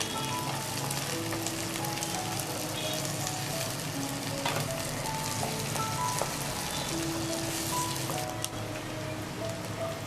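Capsicum and onion sautéing in a pan for Indo-Chinese baby corn and paneer chilli, a steady close sizzle and crackle like light rain running throughout, with faint occasional clinks of stirring and no talking.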